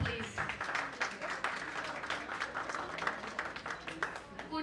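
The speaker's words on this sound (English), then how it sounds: "So, a big round of applause for them, please." Applause from an audience at a corporate event about innovation, automation and analytics: dense, continuous clapping that keeps steady for the whole stretch, with crowd murmur mixed in.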